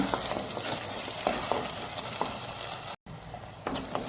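Green masala made without coconut fries in oil in a pan for a Mangalorean sardine green saaru, giving a steady, close sizzle with occasional stirring scrapes and one brief dropout near the end.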